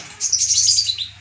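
A common iora (konin) songbird gives a short, bright burst of chirping, close and clear, lasting about a second over a low steady hum.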